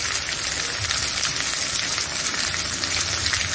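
Spices and chili powder for masala bhindi sauté in a hot pan, giving a constant, close, crackling sizzle with no pauses.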